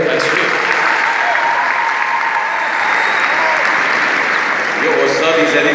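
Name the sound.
audience applause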